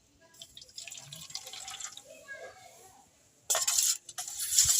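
Boiling water poured onto half a cup of semolina in a home kitchen, a faint trickling pour followed by a louder splashing gush near the end.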